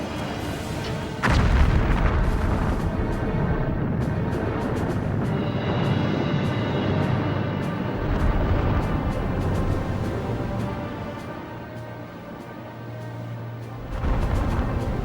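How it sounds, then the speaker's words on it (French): Heavy naval cannon and artillery fire booms, with sharp blasts near the start and end over a continuous rolling rumble of distant shots. "Ses canons ouvrent le feu"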